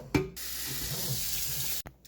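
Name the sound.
filling a pot with tap water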